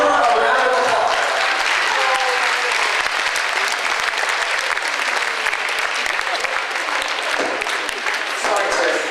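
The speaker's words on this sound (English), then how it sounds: "Give her a round of applause." An audience at a mentalist performance bursts into sustained applause, dense clapping filling the room for several seconds with some crowd noise mixed in.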